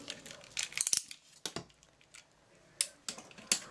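Scissors snipping paper while cutting a zine along fold lines: a few quick crisp snips in a cluster, then sparse single cuts, close and fairly quiet with no speech.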